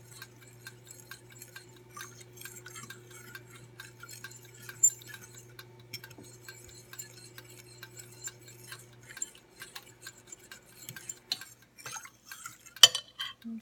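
A fork stirring chicken gravy in a pan: light scraping and ticking taps against the metal, soft and irregular, with a low steady hum beneath and a sharper clink near the end.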